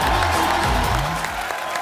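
A studio audience applauds and cheers to welcome actor Randeep Hooda onto a show: dense, continuous clapping with a few whoops, and a host's voice carrying over it.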